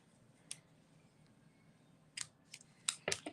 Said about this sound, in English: I'm going to trim these down now.